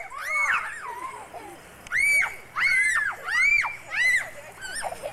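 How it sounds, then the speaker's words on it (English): Children scream and shriek in bursts as they run under a water spray in a backyard, several loud, high, repeated shrieks close by with short pauses between them. "You gotta scream when you go in it though, Rach."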